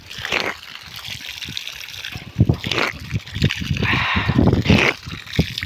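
Water pours out of a tap or pipe to fill pots and vessels, a steady splashing trickle with louder gushes and clatters partway through, close by and without talk.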